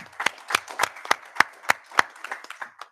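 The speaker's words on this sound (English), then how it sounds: "How about one more round of applause and congratulations for all of our recipients tonight" Applause at a school board of education meeting honoring the employee of the month: a small group clapping in a loose rhythm of sharp, separate claps, fairly close, fading out toward the end.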